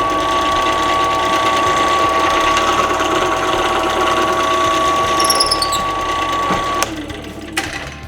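A plug cutter in a drill bores a wooden plug with a steady, close mechanical whir and grinding hum, ending with a couple of sharp clacks as it stops.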